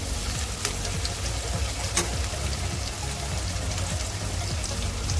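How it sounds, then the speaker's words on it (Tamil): Onions sauté in a pan for a South Indian ridge gourd and potato dish, giving a dense, continuous sizzling crackle with scattered pops, close and steady throughout. "கொஞ்சம் லைட்டாக நம்ம வதக்கிட்டு அப்புறம் நம்ம உருளைக்கிழங்கு போடலாம்."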